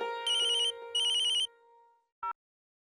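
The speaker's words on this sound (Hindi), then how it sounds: "आपका फोन है" Telephone ringing in a household kitchen scene, two short electronic ring bursts in quick succession over a faint musical background, followed by a brief click, no talk.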